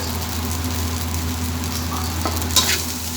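Fried rice with egg sizzling steadily in a pan, a close continuous hiss and crackle with a faint low hum beneath and a brief clatter near the end, no talking.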